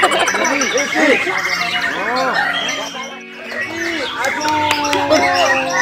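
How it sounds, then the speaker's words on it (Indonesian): Many songbirds, including white-rumped shamas, sing and chirp at once at a bird singing competition in a busy, overlapping chorus, with rapid warbling phrases close by and a voice talking faintly underneath. "Isian kenari keluar dari Arjuna dan banyak macam burung."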